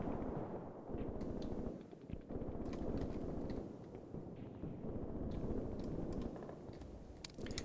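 Artillery guns firing rounds in Graviteam Tactics: a string of muffled, distant thuds and crackling reports spread across the stretch, irregular and fairly faint over a rumbling background, no voices.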